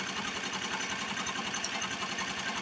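Tajima Sai 8-needle embroidery machine stitching a name onto a blanket, a steady rapid mechanical chatter running continuously at close range.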